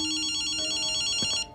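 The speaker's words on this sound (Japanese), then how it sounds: "電話だぜ。" A telephone rings in the video game Ghostwire: Tokyo, giving one steady electronic trilling ring of even, rapid pulses that stops after about a second and a half, loud and close with no talk over it.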